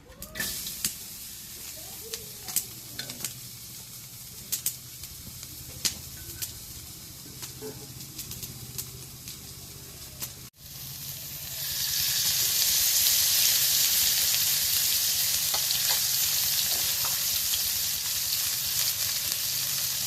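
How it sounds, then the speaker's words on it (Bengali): Onions dropped into a hot wok set off a loud, steady sizzle that begins partway through, after a quieter stretch of small clinks and kitchen noises. "এখন এই যে কড়াইটা গরম হয়েছে, এখন এই যে পেঁয়াজ দিই।"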